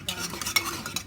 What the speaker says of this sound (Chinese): 然后搅拌